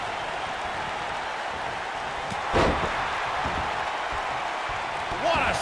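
A wrestling arena crowd at an NWA Canadian Heavyweight Championship match keeps up a steady roar throughout, swelling into sharper cheers and a slam-like thud near the middle and again at the end.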